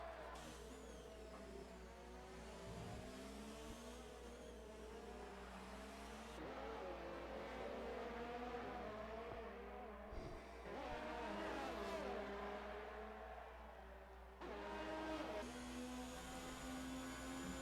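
Race cars in an Xbox racing game on the Baku circuit roar continuously, several engines overlapping as they rev, shift and whine past in a tight pack, with occasional tire squeal and no talk.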